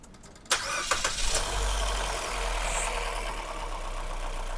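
A Mitsubishi Xpander engine starts after an oil change, with a sharp crank and catch, then settles into a steady, close idle carrying a low rumble and a faint mechanical hiss. No one speaks.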